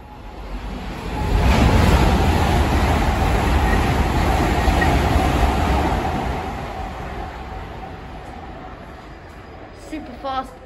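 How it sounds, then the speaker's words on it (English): A fast IET train rushes through Ealing Broadway station at night, a loud broadband roar swelling in over a second or two and holding before fading out over several seconds. "Super fast IET. It's fastest one."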